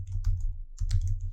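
Keys clacking on a computer keyboard as a command is typed into the psql command-line client for PostgreSQL, two quick bursts of close, crisp taps separated by a brief pause, with no talking.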